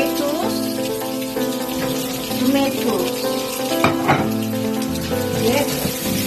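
Ampalaya stir-fried with mixed vegetables, onion and tomato in a pan gives a steady close sizzle with clinks and scrapes of stirring, and background music or voices are faintly present.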